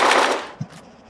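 AK-74U rifle fire in Arma 3: a loud burst of automatic shots fills the first half second, then a single thump and short fading tail, alone without voices.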